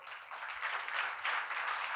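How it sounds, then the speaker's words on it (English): Sustained applause from an audience at a film premiere, a dense wash of many hands clapping steadily for two seconds with no voices. "A big round of applause"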